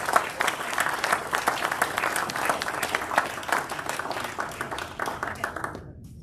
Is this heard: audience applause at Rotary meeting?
yes